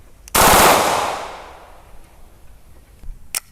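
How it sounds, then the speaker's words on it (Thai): A BLOW TR 14 blank gun fires a single very loud, sharp shot in semi-automatic mode, followed by a long echoing decay and a faint click a few seconds later, with no speech. "ยิง ในระบบกึ่งอัตโนมัติก่อนนะครับ"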